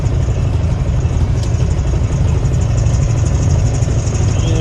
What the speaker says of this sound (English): cruising around in Clifford with a blowed up 351 Windsor. That's how I know it's blowed up. You can hear it rattling.